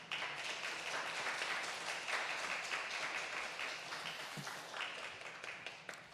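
A church congregation applauds to welcome a missionary to the front, sustained, dense clapping from many hands at steady loudness throughout.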